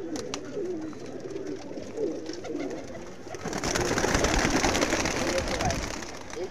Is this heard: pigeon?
yes